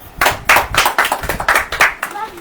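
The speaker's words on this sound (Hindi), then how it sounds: "ताली नहीं बजाएंगे?" A church congregation clapping hands during a sermon, a quick uneven run of separate claps, fairly close and lively, under about two seconds of clear rhythm.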